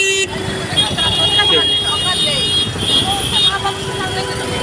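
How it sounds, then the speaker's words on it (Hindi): Dense Mumbai road traffic with car horns honking repeatedly over a steady engine and road rumble, a loud, busy street scene throughout. "हम लोग देख ही सकते हैं ट्रैफिक"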